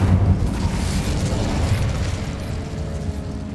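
An Incendio fire spell in Hogwarts Legacy erupts in a loud, close, rumbling burst that rolls on as a sustained roar and slowly fades over a few seconds.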